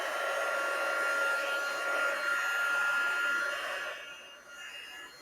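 A craft heat tool blows hot air with a steady, loud hissing roar up close, then drops in level near the end as it is moved or eased off.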